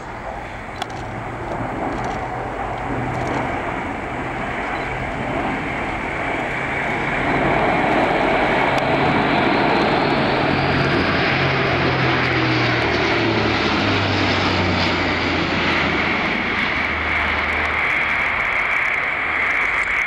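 An Airbus A400M military transport aircraft flying a display at RIAT 2018, its turboprop engines giving a loud, continuous roar that swells midway and holds steady as it passes, heard alone.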